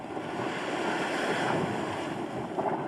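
Strokkur geyser erupting in Iceland, a steady, dense rushing roar of water and air that holds at an even level throughout, with no voices.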